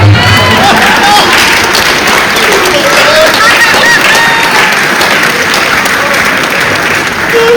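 Loud, sustained audience clapping at a Hindi poetry gathering (kavi sammelan), a thick continuous wash of many hands with some cheering, filling the whole stretch.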